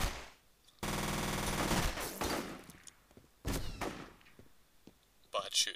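Bursts of automatic gunfire from the shooter game F.E.A.R. Extraction Point during an ambush, a long sustained rattle followed by shorter volleys and a final brief burst, fairly loud with some talk over it.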